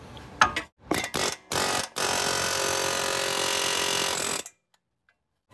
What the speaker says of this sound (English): Let's try the pickle fork with an air hammer.